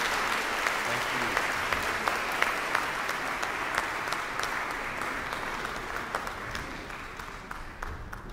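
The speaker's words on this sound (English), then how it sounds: "Would you please give them a round of applause for what they're doing?" Congregation at a church service gives a sustained round of clapping, many hands at once with a few sharper individual claps standing out, fairly close and continuous before gradually thinning toward the end.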